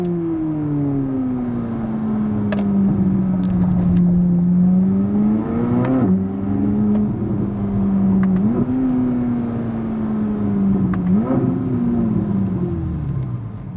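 A Corvette C8 Z06 convertible engine accelerates while driving, a loud, close, steady drone that climbs in pitch, drops at each shift, then climbs again through several gear changes.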